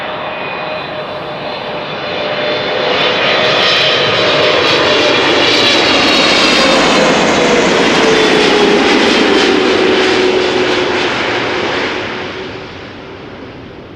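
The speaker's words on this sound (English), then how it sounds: "Arriving from Vancouver, KLM Flight 682," A KLM Boeing 777-300 airliner arriving from Vancouver passes overhead, its engine roar swelling loud and close, holding heavy for several seconds with a slowly shifting whine, then fading away.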